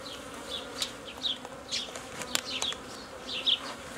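Honeybees swarm and buzz densely inside a crowded hive box during nucleus colony splitting from a queenless colony, a steady close drone with brief louder passes of individual bees, no voices.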